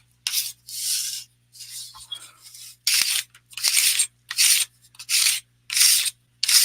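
A metal roller is worked back and forth over a flat craft piece on a table, giving a series of about nine short, close scraping, rasping rolls separated by brief pauses, with no talking.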